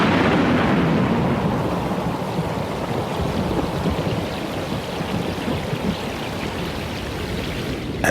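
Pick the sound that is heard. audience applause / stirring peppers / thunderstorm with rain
thunderstorm with rain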